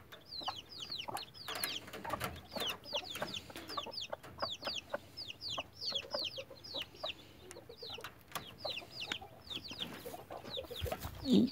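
Several hens clucking on a farm, repeated short calls overlapping steadily for the full length, close and moderately loud with no talking.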